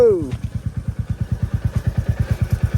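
A motorcycle engine idles close by with a steady, rapid thumping pulse, after a brief rising tone at the start.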